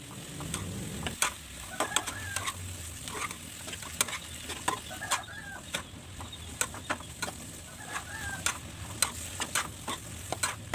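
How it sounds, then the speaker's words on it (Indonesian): Bean sprouts stir-fried in a pan with seasoning, a steady close sizzle punctuated by frequent sharp scrapes and clacks of a spatula tossing the vegetables, no talking. "langsung dioseng-oseng semuanya agar toge ini langsung tercampur dengan bumbu yang udah ditumis sebelumnya ya"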